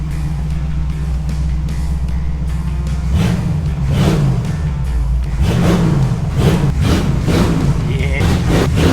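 A Ford 302 V8 in a 1947 F100 fitted with an Edelbrock carburetor rumbles at a steady idle, then revs up in several strong, rising bursts that fall back between them, close and loud throughout.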